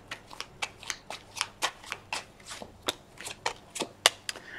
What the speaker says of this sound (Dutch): Dus aan de kaarten schudden om te kijken wat deze week voor de Waterman gaat brengen